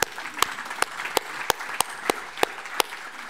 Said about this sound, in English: We're getting a clap.